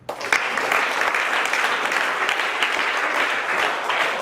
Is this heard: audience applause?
yes